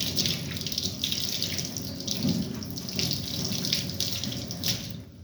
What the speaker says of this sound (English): Third time, washing your hands, applying the solution into all the surfaces of your hand.